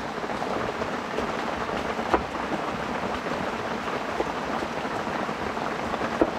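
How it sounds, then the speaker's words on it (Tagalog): Steady rain falls in a dense, even hiss on a mountain near a hut, with occasional louder drips standing out against the constant patter. "Puro na lang ulan."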